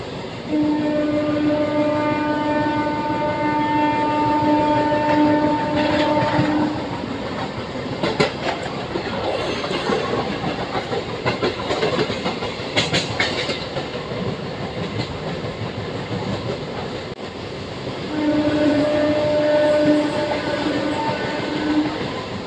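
A Bhimavaram–Vijayawada MEMU train rumbles steadily along the tracks arriving at Madhuranagar station, with a long sustained horn blast at the start and again near the end, loud and close.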